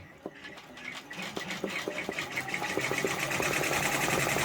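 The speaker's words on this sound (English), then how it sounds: "we're going to go ahead and let it stitch this out. It's 15 minutes of stitching." An OESD embroidery machine stitches a freestanding lace floral pumpkin design, its needle tapping out a fast, steady mechanical rhythm that builds slightly in loudness and runs continuously, close by, with no talking.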